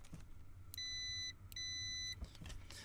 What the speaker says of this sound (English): And now when I touch, you can hear it makes a little beep that's in here.